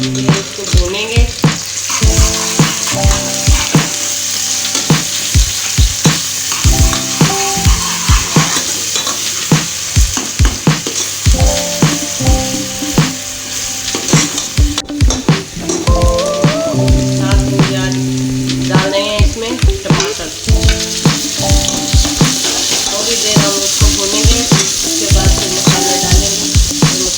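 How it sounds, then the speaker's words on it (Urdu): Chicken masala with garlic ginger paste sizzles loudly in a hot pan for aloo murgi salan, with repeated scraping and clanking stirs of a spoon against the pot throughout. "تھوڑی دیر اس کو بھونیں گے."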